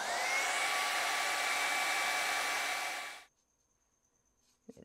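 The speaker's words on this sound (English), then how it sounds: "I'm gonna dry that because it's really wet. I don't want it to run." A hair dryer drying wet Derwent Inktense paint runs as a loud steady whooshing hum for about three seconds, then cuts off, leaving near silence with a couple of faint knocks.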